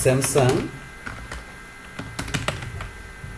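Keys on a computer keyboard clatter as a search is typed, a burst of quick clicks after a voice briefly speaks at the start.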